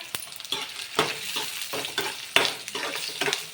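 Dry red chilies, coriander seeds and cumin fry in oil for a Rayalaseema peanut chutney, giving a close crackling sizzle broken by repeated scraping stirs and light clinks of a spoon against the pan.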